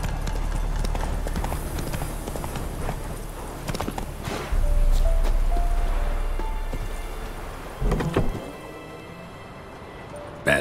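Roach the horse's hooves clop in a steady galloping rhythm in The Witcher 3, loud and close over a constant ambient bed that swells midway, with a brief sharp knock near the end.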